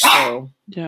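A dog barks once, loud and close, and the bark trails off quickly. Speech follows right after it.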